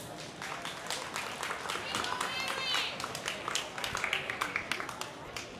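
Crowd applause for a purebred breeding gilt at a swine show in an arena, moderate scattered clapping mixed with a voice talking over it.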